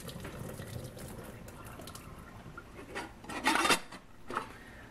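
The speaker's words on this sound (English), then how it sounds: "Next thing we want to do is drain out the excess water from our potatoes." Hot water draining off boiled Yukon Gold potatoes, a low running pour that swells into a louder splashing gush near the end, then a brief final splash, with no talk.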